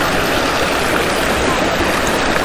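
River rushing beneath a new bridge at Someshwar in Almora, Uttarakhand, a loud continuous broadband roar of flowing water close by, steady throughout.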